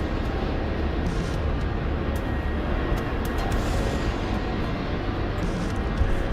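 Ka-50 Black Shark attack helicopter in a flight simulator game, a steady loud rotor and turbine drone running continuously without pause, close and unbroken throughout.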